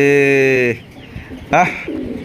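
A pigeon gives a loud, close, drawn-out coo at a large pigeon farm, then after a pause a second throaty coo follows with softer murmuring.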